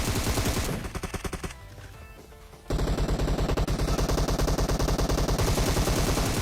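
Rapid gunfire bursts from a battle royale video game, dense automatic volleys that drop away briefly mid-clip, then resume loud and continuous to the end.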